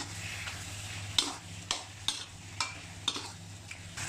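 Curry paste is stir-fried with pork belly and long beans, heard as faint, regular spatula taps and scrapes against the pan about every half second over a soft, quiet sizzle.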